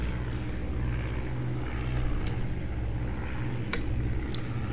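Propeller engines of SPAD VII fighter planes drone steadily in the Red Baron 3D flight game, a continuous low rumble with brief higher whines cutting through, no voices.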